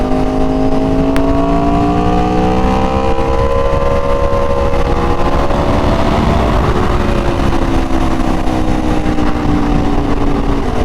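An Aprilia RSV4 Factory motorcycle engine cruises along, a steady, loud droning hum with layered tones that rise and fall gently as the throttle shifts, under constant wind rush and with no voices.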